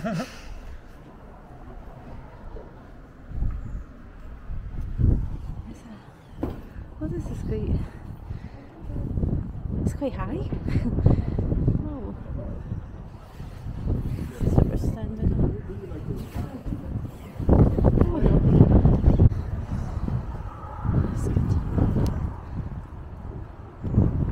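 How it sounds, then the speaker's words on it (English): Wind gusting across the open Ayrshire coast, buffeting the microphone in loud low rumbles that swell and fade over the clip, with a dog named Copper out on the walk. "Love to have the wind blowing in our ears"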